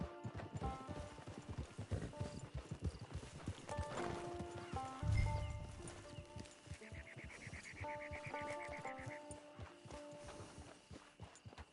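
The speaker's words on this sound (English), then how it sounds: "It's your horse." Horse hooves clip-clop at a steady walking pace in the video game Red Dead Online, fairly close, with tonal game music and ambience sounding throughout.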